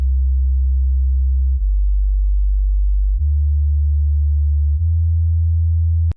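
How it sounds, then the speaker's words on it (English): A deep, smooth synth sub-bass tone plays alone, stepping between a few low notes in a steady rhythm before cutting off with a click. "Sub-bass."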